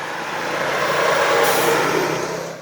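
An oncoming vehicle on a damaged road between Taloy Sur and Babinget, with half a lane undermined, swells into a broad close rush, briefly hisses at its peak, then fades as it passes, with no talking.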